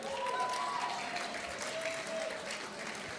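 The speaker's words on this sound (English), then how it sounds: "they're very wonderful, incredible musicians, and they deserve a big round of applause" An audience claps for the musicians at a vaudeville night in a club, steady applause holding through the whole stretch, with faint tonal sounds from the stage beneath it.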